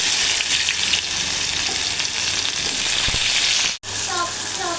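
Asafoetida and garlic dropped into hot oil give a loud, dense, continuous sizzle close by, with a brief break near the end before the frying resumes.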